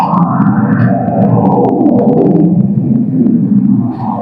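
A Boss guitar synthesizer pedal produces a lightning-like sound effect: a loud, continuous rumbling wash with swooping, echoing tones that shimmer and sweep throughout, without any talking.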